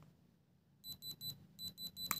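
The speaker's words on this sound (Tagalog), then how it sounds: "So, yung tunog na yun ay tunog ng diamond." A diamond tester touched to a diamond gives a series of short, high electronic beeps in a steady pulsing rhythm, in two groups of three, fairly quiet and close, with no talking.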